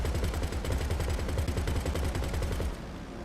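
A rapid, sustained burst of turret gunfire from a Mogul aircraft in GTA Online, loud and dense with rhythmic reports, cutting off abruptly near the end.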